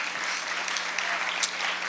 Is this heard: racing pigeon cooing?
no